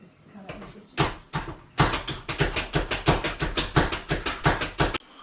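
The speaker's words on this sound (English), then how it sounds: "I finished chopping the onions" A knife chopping onions on a cutting board, a fast run of sharp, evenly spaced knocks close by, with a brief pause near the start.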